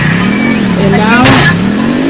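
Engine of a delivery bike in a pizza delivery video game revving and accelerating, with a steady low drone rising in pitch, heard close and continuous under a person talking.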